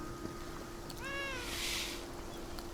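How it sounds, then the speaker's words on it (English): A single cat meows in a video game, a short rising-and-falling cry over a faint steady electronic hum. "Look at all the cats."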